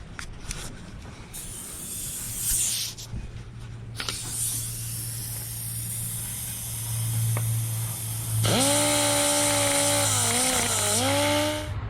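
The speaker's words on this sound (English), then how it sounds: "we can take it out and blow a little air through there, some brake cleaner, and try to clean that circuit out" Compressed air and brake cleaner are blown through a carburetor circuit in a workshop: intermittent short hisses and bursts, then a loud, sustained spray with a steady mechanical hum beneath, close by.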